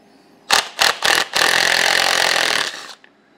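Pneumatic impact wrench working a rusty bolt loose from a 1968 Starcraft boat, three short loud bursts followed by a long sustained hammering rattle that cuts off, close and alone.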